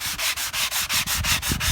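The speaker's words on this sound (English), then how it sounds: "Wood putty dries, just lightly sand it" Light sanding of dried wood putty on a wooden birdhouse, a steady back-and-forth rasp in about nine even strokes, close and alone.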